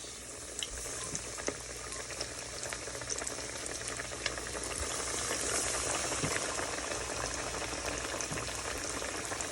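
Battered fish frying in hot oil, a dense, even bubbling sizzle that holds steady and swells slightly toward the end, fairly faint and with no talk.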